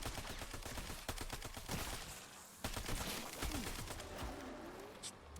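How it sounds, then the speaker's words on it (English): Grenade blast and gunfire in Call of Duty Black Ops 7 Zombies, a rapid burst of shots and sharp booms with a heavy thump near the middle, loud and close. "Let's lob a grenade at it."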